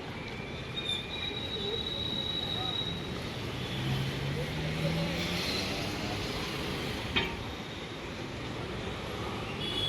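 Steady rumbling hum of an underground Mumbai Metro Aqua Line 3 train running on rails, with a faint rising whine and a brief squeal of the wheels partway through.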